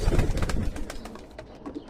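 Pigeons cooing inside a pigeon loft, several low throaty coos close by in quick succession, with soft rustling and other bird sounds around them.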